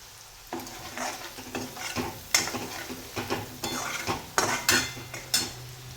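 Chopped leafy greens sauté with turmeric in a hot pan, a constant sizzle broken by repeated scraping and clinking strokes of a metal spoon stirring, close and clear with no talk.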